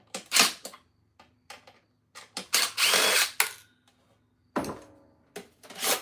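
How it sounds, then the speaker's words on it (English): A power drill whirs in short bursts while removing screws from e-waste, starting and stopping repeatedly, with one longer run in the middle and brief pauses between. "We're going to use the power tool."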